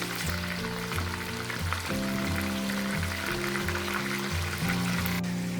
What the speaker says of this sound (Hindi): ये देखिए चिकन जो है फ्राई हो गया है अच्छी तरह से।